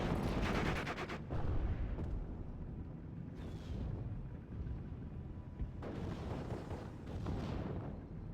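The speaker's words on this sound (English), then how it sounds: "these mortar teams, 220mm mortars, will start pinning down these Bren groups" Heavy 220mm mortar fire in a WWII strategy game, with several booming blasts and crackling impacts in bursts that fade between salvos, fairly faint overall.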